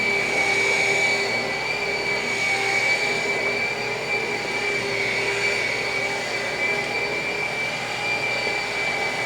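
A rotary buffer spreads polish across car paint with a steady, close motor whine and a constant airy hiss, holding an even pitch and loudness throughout with no talking.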